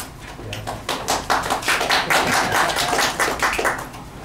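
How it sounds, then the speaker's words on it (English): An audience applauds a speaker at a lecture on the prophet Isaiah, with steady clapping at moderate loudness for about four seconds and no voices. "they probably thought the clapping was for you"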